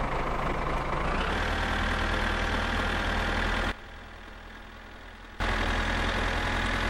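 A tractor engine in the driving game My Summer Car idles with a low, steady knocking rumble that drops out briefly before returning, loud and close with no voices.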